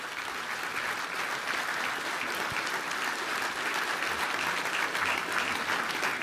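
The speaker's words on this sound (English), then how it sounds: "ladies and gentlemen, please join me in a round of applause for this panel." Steady, sustained applause from a military forum audience for a panel, a dense wash of many hands clapping throughout, moderately distant and without speech.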